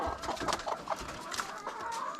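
Chickens cluck softly close by in a brief, busy stretch, with a faint rooster-like call mixed in. No one speaks.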